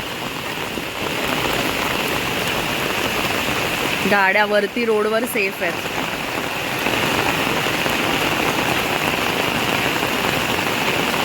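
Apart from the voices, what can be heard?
heavy rain falling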